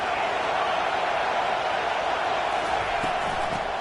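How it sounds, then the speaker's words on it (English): A football stadium crowd roars on a third-down defensive stand, a dense, loud, unbroken wall of noise that stays steady throughout. "Decibels rising as the crowd gets behind this defense on third down."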